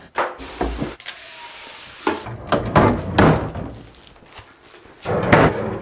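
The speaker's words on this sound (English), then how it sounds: "Now we're gonna move a dresser down here" A dresser is shifted into place indoors, producing a loose series of wooden knocks, thuds and scraping clunks at irregular intervals, some sharp and close, with quieter rattles between.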